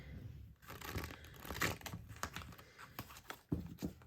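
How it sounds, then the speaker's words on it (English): Tarot cards riffled and shuffled by hand, giving a close, papery crackling and flicking that runs in uneven bursts for a few seconds, with no one speaking over it. "that was not a very good shuffle"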